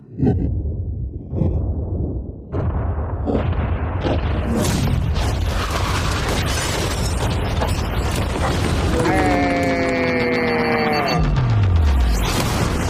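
Mattresses and water jugs around a yacht blow up in an explosion. A loud, sustained blast roars with a deep rumble and grows heavier, then a tone slides downward as it fades.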